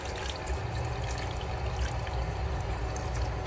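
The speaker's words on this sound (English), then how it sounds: "So we're gonna let it flush all the sediment from the bottom." A home water heater drains to flush sediment from its bottom, giving a steady, close, continuous rush of pouring water with no pauses and no talk.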